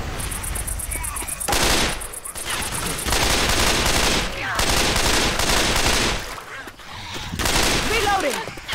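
Gunfire aimed at the Tank in Left 4 Dead 2: loud, rapid automatic bursts come in several long volleys separated by brief lulls, close and dense, with game noise around them.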